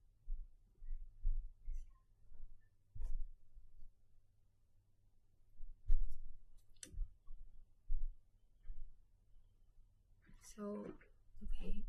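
Repeated computer mouse clicks come as sharp, close taps in irregular bursts through a quiet room, with a person speaking briefly near the end.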